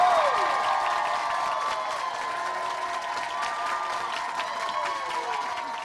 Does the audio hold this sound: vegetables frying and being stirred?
no